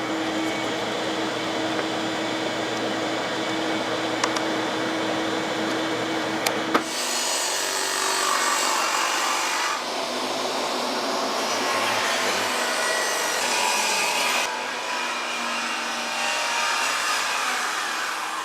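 A power saw cuts through a wooden board to make a 1.25-inch strip, a loud, steady whining buzz that holds for several seconds, briefly dips, then rises again without a break.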